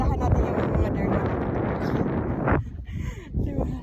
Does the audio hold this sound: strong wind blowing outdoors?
yes